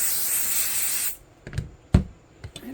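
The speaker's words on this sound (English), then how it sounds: "Let's spray." 505 temporary fabric adhesive spray hisses in one steady burst of about a second, near and fairly loud, then stops, leaving a few soft handling taps and rustles.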